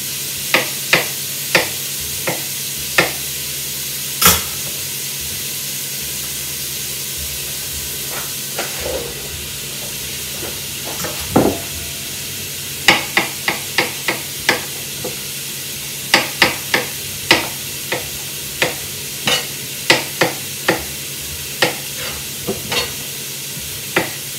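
Mushrooms, about 220 grams, being stirred into a stewpot for a Normandy-style rabbit stew: a steady sizzling hiss with sharp clacks of a utensil against the pot, sparse early and then coming in quick bursts, close and loud.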